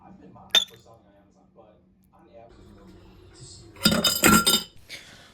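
Cutlery clinks against dishes during a pasta lunch: one sharp clink early on, then a brighter cluster of clattering metal on crockery near the end, over a quiet room.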